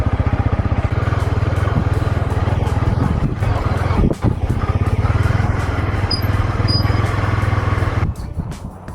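A motorcycle idles and rolls slowly into a petrol station on a road trip to a moto gymkhana event, its engine a loud, steady, close throb with wind buffeting the microphone, then briefly easing near the end.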